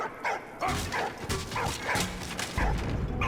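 A dog in the World War I video game Valiant Hearts gives a quick series of barks, yips and whimpers, close and clear with brief gaps between each sound.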